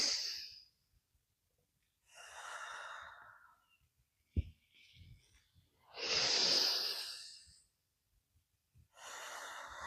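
Slow, audible breaths during a calming yoga practice, with long airy exhales and inhales alternating in distinct waves separated by pauses, close and soft, plus one brief sharp knock.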